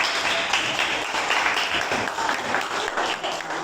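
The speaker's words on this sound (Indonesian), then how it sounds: "kasih tepuk tangan dulu buat Raffi" A classroom audience at a teaching practice session claps for a student named Raffi, a fairly loud, even patter of many hands that runs steadily from start to finish.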